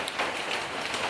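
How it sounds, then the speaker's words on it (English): Steady rain falls on a riverside garden in Thailand on a cold day, a dense continuous patter of drops on surfaces with no voices, even and unbroken throughout. "It's raining, as you can hear."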